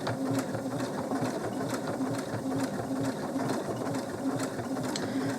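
A sewing machine hums and clatters in a fast, steady rhythm during free-motion stitching around a Christmas pudding shape, close and continuous without speech.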